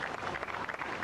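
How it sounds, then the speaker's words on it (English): Crowd applause at an outdoor marijuana march rally in Cincinnati, a steady dense patter of many hands clapping at moderate distance, continuous through the whole short stretch. "Let's give him another round of applause,"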